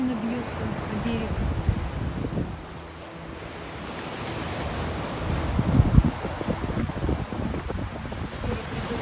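Waves wash onto an empty beach in a continuous, rolling surge mixed with gusty wind buffeting the microphone, while someone talks over it.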